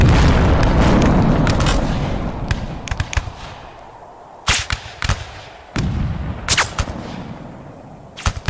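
Cannons fire in the video game Rise of Liberty, a series of sharp booming shots in a loose rhythm over a dense rumbling battle backdrop that thins toward the end.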